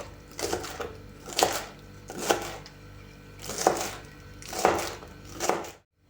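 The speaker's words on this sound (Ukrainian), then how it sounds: "Дрібно нарізаємо 30 грам молодої зеленої цибулі." Young green onion is finely chopped, with about six separate, evenly spaced knife hits on a board, close and distinct, before the sound cuts off abruptly.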